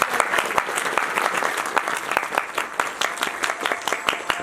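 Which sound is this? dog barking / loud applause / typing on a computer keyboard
loud applause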